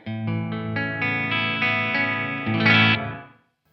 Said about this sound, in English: So here's the decay at the lowest